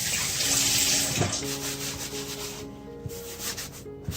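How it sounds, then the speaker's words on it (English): Smoked Dutch rookworst sausages are rinsed under a running kitchen tap: a steady, close hiss of water with soft rubbing as the sausages are handled. "So I always like to rinse my sausages when I get them out of a package"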